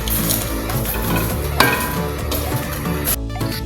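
Homemade popcorn is stirred in a pot, with a continuous scraping and sizzling churn, a sharp clatter midway and a brief knock near the end.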